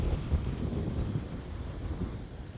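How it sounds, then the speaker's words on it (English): Wind gusting at a spring creek on a windy day, a steady low rumble buffeting the microphone with no other distinct sounds. "That's the wind."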